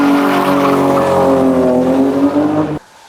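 A BMW E36 used for rallycross is driven hard, its engine roaring loud and near with rising tones and tire squeal before cutting off abruptly into quiet.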